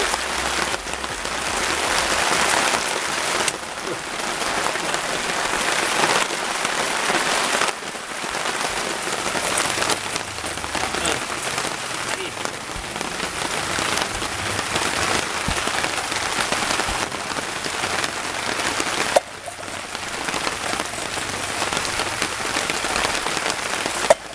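Heavy rain pounds a tent roof as eel stew is cooked over a field stove, a dense, close patter that swells and eases in waves for the whole stretch, with no talking.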